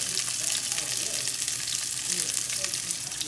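Breaded cod fillets pan frying slowly in medium-hot oil: a constant, close crackling sizzle with dense bright spitting, steady throughout, with no talk.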